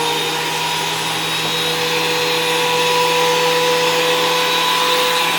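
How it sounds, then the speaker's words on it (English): A DeWalt DW734 benchtop planer runs steadily as a chainsaw-milled oak board is fed through, giving a loud, continuous whining motor roar with no breaks. "So I'll kick this on and run it through a few times."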